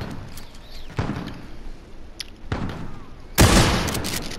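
Shotgun blasts loaded with buckshot in Modern Warfare Infected mode on the Employee Parking map, a few separate booming shots at uneven intervals, the last one loudest and closest.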